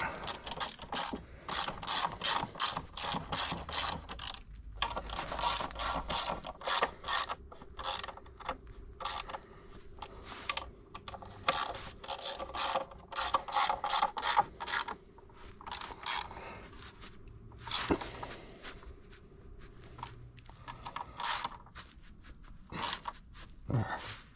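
Repeated ratchet clicking as motorcycle skid plate bolts are tightened on a 2019 Husqvarna FE350, bursts of rapid pawl clicks with short pauses, close and fairly loud, no talking.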